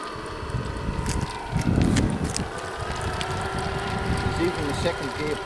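A Caterpillar D11 bulldozer engine drones steadily while pulling a Drake trailer in second gear, a continuous heavy rumble mixed with wind buffeting the microphone and voices talking nearby.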